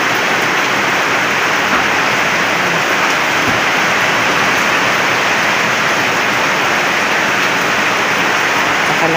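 Heavy rain pours down in a dense, steady roar of hissing water, constant and loud throughout without any talking.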